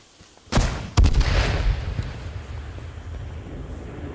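Two sharp grenade blasts in the survival shooter H1Z1, about half a second apart, each followed by a rumbling tail that slowly fades into outdoor wind noise.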